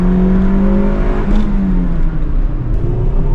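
A car fitted with parts from Japan accelerates, its engine note rising steadily as a loud, close, continuous drone with no talk over it.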